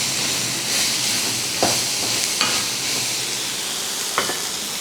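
Beef pieces frying in a pan for momos, with a steady close sizzle and occasional stirring scrapes over the hiss, no voices.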